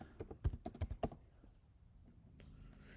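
Quick bursts of keystrokes on a computer keyboard as a router command is entered, a short run of close, crisp clicks followed by a quiet tail.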